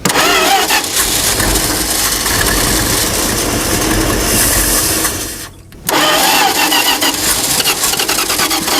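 A long-abandoned old Dodge D-600 truck engine cranks and fires, running roughly and loudly. It cuts out briefly for a moment before catching again and revving on.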